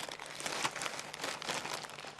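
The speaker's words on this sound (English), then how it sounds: "So straight into this plastic bag." A plant cutting is pushed into a plastic bag, giving close, continuous crinkling and rustling that runs throughout with no talking.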